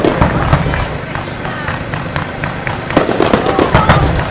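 Fireworks burst continuously at Bournemouth beach on a summer night in 2012, a dense, loud barrage of crackling and booming explosions with sharper pops rising above a steady roar.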